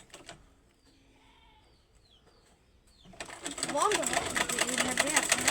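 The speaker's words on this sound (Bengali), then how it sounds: "এটা যে এখন সেলাই করব মাঝ বরাবর।" A household sewing machine runs loudly and steadily, stitching down the middle of a joined fabric piece; faint rustling and a brief voice come before the motor starts about three seconds in and keeps going to the end.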